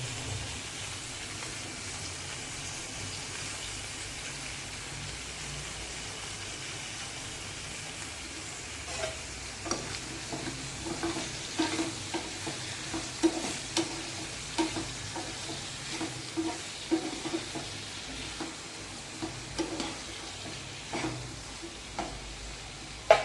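Potato and eggplant fry in a pan while being stirred. A steady soft sizzle runs throughout, and scraping stirring clicks become more frequent in the second half, with no talking.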